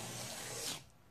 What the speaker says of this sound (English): I'm going off the block and moving to just some hand sanding just to give it a more of a uniform finish